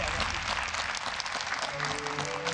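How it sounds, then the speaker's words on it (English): Crowd applause at a ONE Championship mixed martial arts fight, a broad steady clapping wash filling the arena for a few seconds, with an announcer's commentary mixed in. "The crowd appreciate it."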